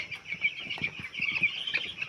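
Soft, repeated clucking and chirping of an 11-day-old chicken nearby, fairly quiet, with light rustling and no talk.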